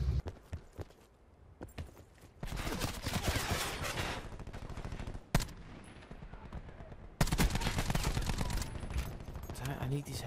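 A VKM machine gun in Call of Duty Black Ops 4 rattles in rapid, dense bursts separated by short pauses, close and loud, with occasional talk between bursts.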